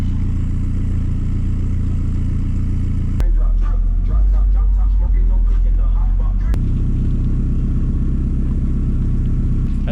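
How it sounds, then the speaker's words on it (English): A Honda Civic doing a burnout roars and rumbles steadily with rough clattering, building into a heavier, harsher burst in the middle before settling back. "You should do a burnout."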